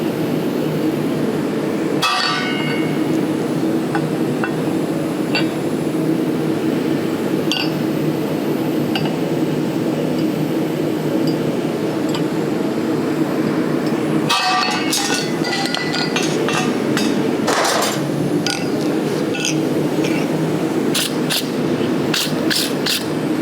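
A hammer strikes a steel drift set on the corner of a striking anvil while touch-marking hot iron in a blacksmith's forge, with sharp metallic rings and clinks over a steady roar.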